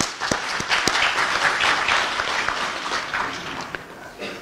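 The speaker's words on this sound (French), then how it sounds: "Je voudrais qu'on les applaudisse," An audience at an official gathering addressed by the interior minister claps, with scattered distinct hand claps merging into a moderate round of applause that holds steady for a few seconds.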